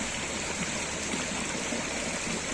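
A river flowing past dairy farms in Kudah, where farm waste drains into the water, gives a steady, even rush of running water that stays constant throughout, with no voices.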